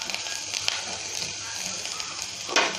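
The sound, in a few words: onions frying in hot oil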